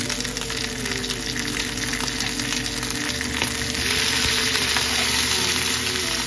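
A fish fries in a pan with a steady close sizzle and crackle that swells louder partway through, alone with no voices.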